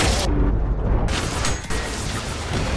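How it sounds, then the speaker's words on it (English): An electric rail cannon fires in the video game Ultrakill, setting off a dense, continuous roar of loud explosions and crackling blasts that stays heavy and unbroken throughout. "Jump into 5-1 and just shoot the electric rail cannon."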